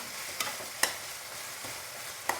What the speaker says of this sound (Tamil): அந்த வெங்காயம், தக்காளி வந்து தெரியவே வேண்டாம், ரொம்ப நல்லா குக் ஆகணும்